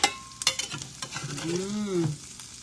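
Eggs fry in a pan with a steady sizzle, broken by a few sharp clattering stirs and utensil knocks up close, while a brief tonal whine rises and falls partway through.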